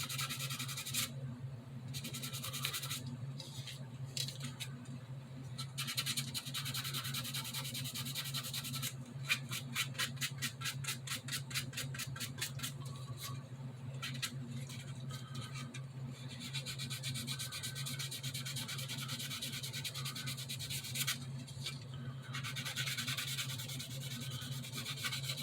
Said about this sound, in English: great thing about these sanding sponges is they'll contour over just about anything